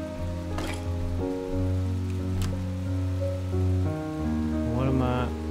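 Steady rain in the video game Behind the Frame, a soft, continuous patter running beneath sustained music for several seconds, with no one speaking.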